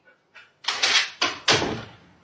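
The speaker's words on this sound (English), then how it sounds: "Go shut the door." A door is pushed shut close by: a couple of light bumps and shuffles lead into two loud, sharp knocks as it closes firmly, with no talking.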